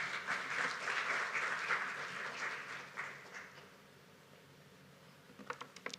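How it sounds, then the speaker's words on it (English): A crowd at a campaign launch event applauds after a speech, loud clapping for about three seconds that thins out and fades, leaving a few scattered claps near the end. "Can we give him a big round of applause one more time?"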